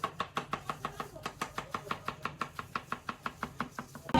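Cabbage is chopped with a knife on a board in a hotel kitchen in Tezpur: about two dozen crisp, evenly spaced strokes in a quick steady rhythm, close and clear, with no speech.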